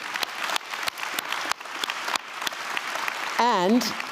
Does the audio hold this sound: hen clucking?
no